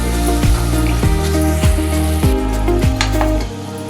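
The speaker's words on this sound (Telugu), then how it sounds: "ఇప్పుడు దీనిలో ఒక టమాటా గుజ్జు వేసాను. బాగా కలుపుకుని పైకి తేలేంత వరకు కూడా వేయించు." Tomato pulp frying in oil for Nellore fish curry, a loud continuous sizzle broken by regular rhythmic scrapes of a spoon stirring the pan, close and alone without voices.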